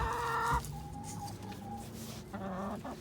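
Chickens cluck nearby with a few drawn-out calls and soft clucks, steady farmyard murmur underneath.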